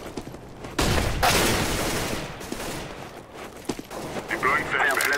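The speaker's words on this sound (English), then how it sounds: "I'm throwing a flashbang." Flashbang grenade thrown in CS:GO, heard as a sudden loud broadband burst about a second in that rolls into a sustained roaring hiss, with further sharp pops and faint high ringing tones near the end; game voices are mixed in.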